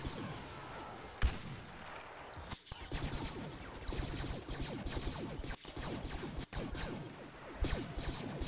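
Turret fire in Star Wars Battlefront: a dense, continuous chatter of rapid blaster shots amid a busy battle din, with a few louder impacts along the way.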